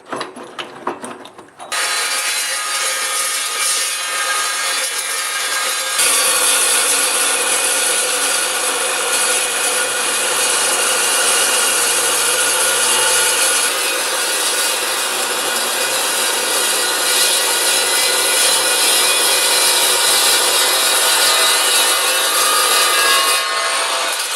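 An Evolution carbide-toothed metal chop saw slices through a large metal piece, a loud, steady grinding whine that runs almost without a break after a brief start-up, then drops off at the very end.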